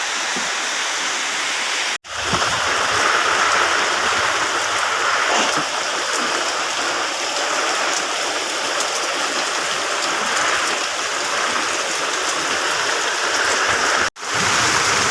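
Heavy summer rain pours down in a loud, steady roar of dense droplets, continuous and close for the whole stretch apart from two brief cuts.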